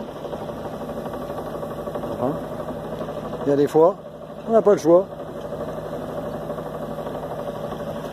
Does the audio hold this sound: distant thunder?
no